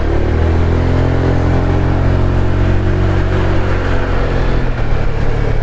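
A Honda Vario 125 scooter drones steadily while riding, its engine hum and road noise loud and continuous throughout, with no voices.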